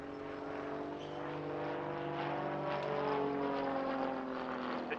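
A Grob Tutor light propeller aircraft performing a stall turn at the RAF Cosford Air Show gives a steady, droning engine note that shifts slightly in pitch as it climbs and turns, heard at a moderate distance with no voices.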